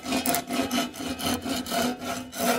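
Rhythmic rasping strokes of a hand saw working in its groove through wood, about a half dozen even back-and-forth pulls, close and clear, with no talking.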